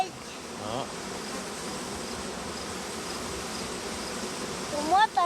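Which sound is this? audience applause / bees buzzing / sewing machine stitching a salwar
bees buzzing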